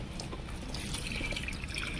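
Water trickles and drips from a drip irrigation line in a terrace garden fed by a motor pump, a faint, continuous splashing and dribbling with small irregular drops throughout.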